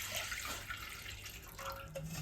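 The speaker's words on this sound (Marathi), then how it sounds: "आता एका पातेल्यात पाणी घ्यायचं." Water pours into a cooking pot with a quiet, continuous splashing rush that lasts the whole short stretch, with no talking.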